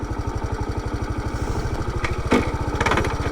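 A 1984 Honda Trail 110 motorcycle's small single-cylinder engine runs steadily close by, a fast even putter throughout, with a brief louder clunk and rev partway through.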